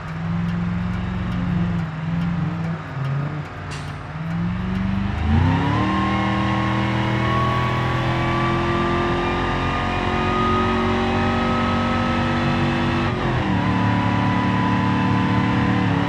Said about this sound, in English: But that transmission and the way it shifts, it sounds really realistic too.